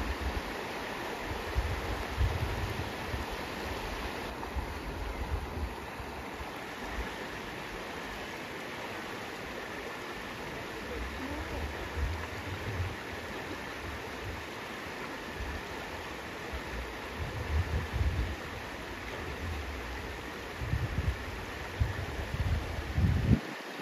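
Water of the Sokuleru stream flows steadily in a forest setting, a soft continuous rush heard from a short distance, with no voices.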